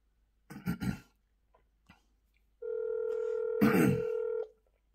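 An outgoing phone call rings through the handset as a single steady electronic tone lasting about two seconds, preceded by a brief throat clearing in a quiet room.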